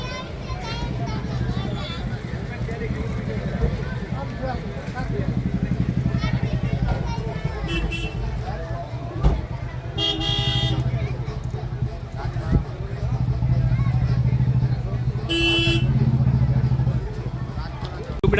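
Busy road traffic in the rain, with motorcycles and cars rumbling past steadily and a couple of short horn honks near the middle and end, over constant background chatter and voices.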